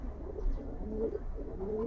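Pall line pigeons coo in a loft, with soft, repeated low cooing calls rising and falling close by against quiet surroundings.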